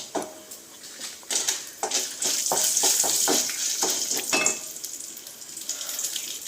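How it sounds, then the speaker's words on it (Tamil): Ingredients for thuthuvalai chutney, with dried chillies among them, sizzle and crackle in a hot pan. A steady hiss runs throughout with bursts of spitting and stirring noise, and nobody speaks. "இப்போ இது வறுத்துக்கிட்டு இருக்கு"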